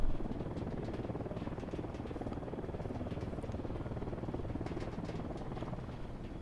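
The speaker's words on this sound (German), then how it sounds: "Wo ist der Hubschrauber?" A helicopter in Ghost Recon Wildlands gives a continuous dense rotor roar with rapid blade chop, held steady at moderate level throughout, with no voices.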